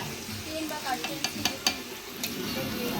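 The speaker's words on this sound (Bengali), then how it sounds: "আর আমি মাংসটা কষাচ্ছি।" Meat being stir-fried in a large pot over an outdoor fire at a picnic, a steady sizzle with a short run of sharp ladle scrapes and knocks midway, no talk heard.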